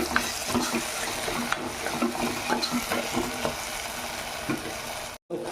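Food fries with a steady sizzle in a pan as turmeric is stirred in, the scraping stir continuous and close, with a short break near the end.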